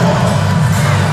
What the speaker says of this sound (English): Can hear the Hawaii crowd in here